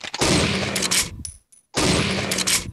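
Two loud, close bursts of rapid gunfire from the Pixel Gun video game, each lasting about a second, separated by a short silence.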